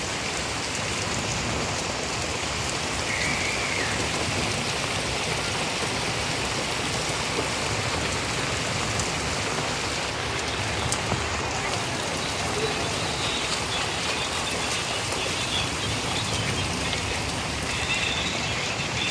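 Heavy rain pours down in Lahore during a thunderstorm, making a dense, steady roar of drops on surfaces that holds evenly throughout without pause.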